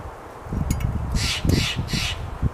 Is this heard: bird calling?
yes